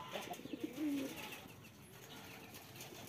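Pigeons kept at a home loft give a short burst of low cooing early on, close and quiet, then only faint background noise.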